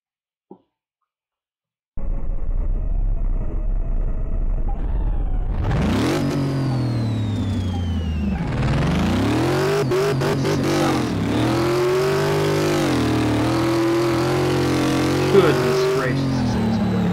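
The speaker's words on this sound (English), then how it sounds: "We're going to take one lap of the racetrack in the Vette for the first time." A Chevrolet Corvette's engine in Car Mechanic Simulator 2018 starts up after a short quiet gap, then revs and accelerates hard around a racetrack lap, its loud engine tone climbing and shifting through gears continuously.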